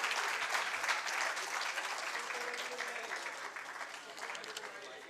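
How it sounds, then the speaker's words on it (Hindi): An audience at a lecture gives a dense round of clapping that holds steady, then slowly thins and fades toward the end, heard from within the hall. "मैं सोचता हूँ कि जोरदार तालियां होने चाहिए थी।"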